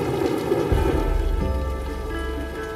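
Steady rain pours down on a house construction site, a dense continuous hiss with a low rumble, close and loud throughout with no voices.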